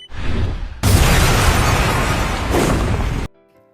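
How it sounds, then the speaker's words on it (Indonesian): A house blown apart by a planted bomb in an anime, a loud sustained blast roar with crashing debris that swells, surges again and then cuts off abruptly into quiet. "Setelah keluar rumah, rumah pun langsung meledak."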